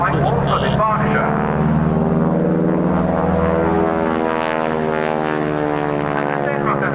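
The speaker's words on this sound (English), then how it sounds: "this is a Harvard 2B model" A Harvard 2B propeller aircraft flying at an air show gives a steady, loud, droning engine and propeller roar with strong harmonic tones that hold throughout.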